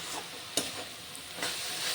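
Amaranth greens (note shak) frying in a pan near the end of cooking, a soft steady sizzle with a few faint stirring scrapes, quiet and close.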